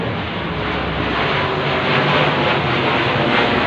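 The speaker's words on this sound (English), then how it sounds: "Plane patrolling over my head." An airplane passes overhead above the city of Sydney in a loud, steady roar that swells slightly toward the end, with no talking.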